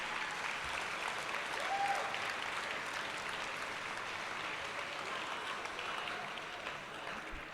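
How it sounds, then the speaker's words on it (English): Steady audience applause at a miniature painting awards ceremony, continuous clapping from a crowd filling the whole stretch at moderate, fairly distant level with no talk over it. "Round of applause."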